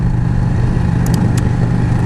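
A 2000 Yamaha Drag Star motorcycle idles or cruises in a garage, giving a steady, loud low-pitched engine drone with a continuous rumble and no talk over it.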